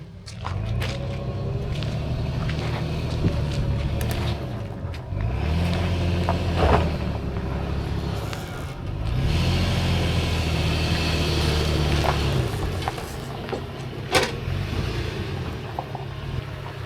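A vehicle backing up a trailer, a low engine rumble that swells and eases in repeated surges with clanks and knocks on top, nearby and fairly loud.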